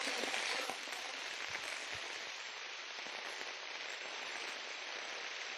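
Rain falls in a dense, steady patter, a continuous hiss of drops striking surfaces close by, with a few louder individual hits early on and no voices.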